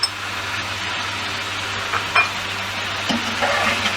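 Chicken karahi with garlic and tomatoes sizzling steadily in a pan, with occasional scrapes and stirs of a spoon over a constant low hum.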